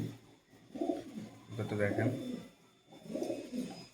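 A small female Red Bull pigeon, held in the hand, gives soft rolling coos close up while someone speaks briefly over the calls.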